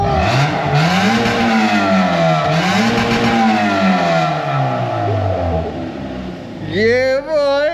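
A BMW E46 engine runs and revs hard, the pitch sweeping up and falling back in repeated throttle blips, loud and close, before a final sharp high rev, with people talking alongside.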